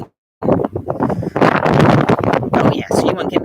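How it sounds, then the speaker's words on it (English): A strong gust of wind buffets the microphone outdoors, roaring and rumbling for about three seconds after a brief silence, with the level rising and falling. "here comes the wind again"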